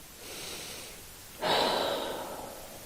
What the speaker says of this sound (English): Let's go for 5 breaths.